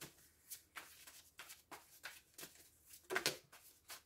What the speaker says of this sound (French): je vais bien tirer cet oracle, mais je vais le tirer pour vous